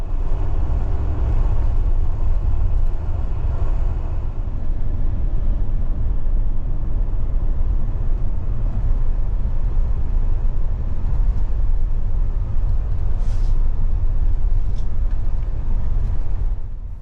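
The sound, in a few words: long-distance bus driving on Japanese toll road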